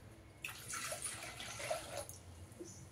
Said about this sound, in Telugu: అలా నీళ్ళు పోసుకున్నాం